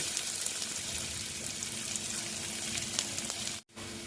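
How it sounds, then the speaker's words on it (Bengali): Onions frying in a pan for a Bengali red amaranth (lal shak) dish, giving a steady, close crackling sizzle that runs unbroken until a brief dropout near the end. "পেঁয়াজটা যতক্ষণ ব্রাউন কালার না হয় ততক্ষণ আমি এটা ভেজে নিচ্ছি"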